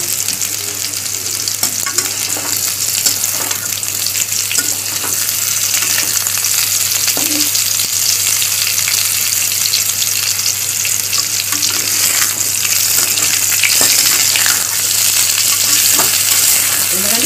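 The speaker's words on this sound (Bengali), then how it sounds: "পটলগুলো আমি একটু লাল লাল করে ভেজে নেব।" Pointed gourd (potol) pieces fry in oil in a pan for a vegetarian Bengali dish, giving a steady loud sizzle with occasional stirring, and no talk.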